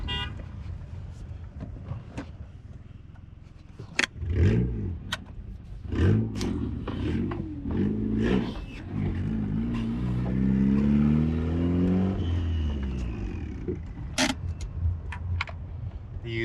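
A turbocharged Honda Accord CG6 pulls away on a street with a rising engine note that swells and climbs through revs, punctuated by a few sharp clicks and knocks, close and fairly loud.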